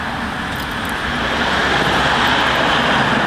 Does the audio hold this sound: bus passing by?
yes